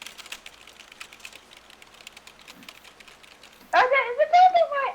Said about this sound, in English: I'm just tapping away with my keyboard.